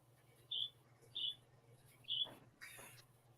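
A bird gives three short, bright chirps spaced about evenly, fairly close and clear over a low steady hum, followed by a brief rustle and a softer fourth call.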